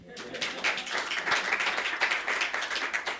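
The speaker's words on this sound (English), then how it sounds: "Round of applause." Audience applause during a church service, a burst of close, fairly loud clapping with quick uneven hand claps running throughout.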